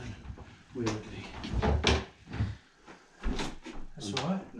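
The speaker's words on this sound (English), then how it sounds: "these doors open weirdly" Cupboard doors open in a house under renovation by labourers, with several soft knocks and wooden clunks spread among ongoing conversation.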